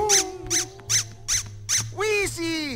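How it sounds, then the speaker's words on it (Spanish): A squeaky rubber toy penguin squeaks five times in an even rhythm, loud and close, followed by longer wavering squeals, with a low hum underneath. "¡Ya rechinas!"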